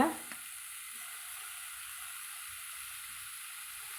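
Bitter gourd sautéing in a pan gives a steady, soft sizzle and hiss, heard close and alone after a brief clatter at the start.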